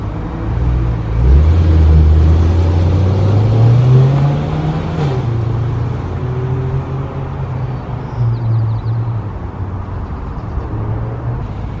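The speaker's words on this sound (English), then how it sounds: "Alright, so we're just going to do some basic revs." BMW M3 with hollowed-out stock catalytic converters revving from just over ten feet away, a loud deep engine note climbing in pitch over several seconds, then settling into a steady rumbling idle.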